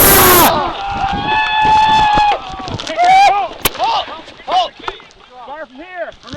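A reenactment skirmish between redcoats and rebels: a loud musket volley cracks close by, followed by scattered shots, echoes and shouted commands.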